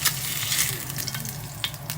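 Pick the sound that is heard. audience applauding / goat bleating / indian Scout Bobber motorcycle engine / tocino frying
tocino frying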